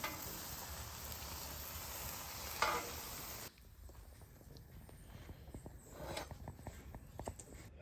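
Turkey Rachel sandwich frying in butter in a pan, a steady close sizzle that drops quieter midway as the sandwich is flipped, with light scraping and clinks over the continuing crackle.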